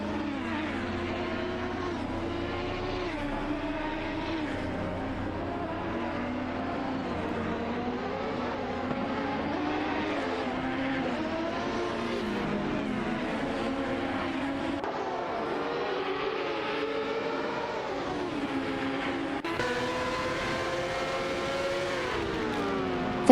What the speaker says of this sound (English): Taiviref 2 in the Penske PC23 Oval is closely contesting Naibe in the Lola T95 0 Oval